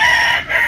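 A rooster crows once, close and loud, in a short burst heard alone at a rural home in Magsaysay, Occidental Mindoro.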